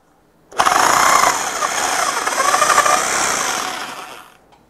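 A Deko DKRH20B50 rotary hammer drill starts abruptly and runs loudly for about four seconds with a rough, rattling motor whine before winding down.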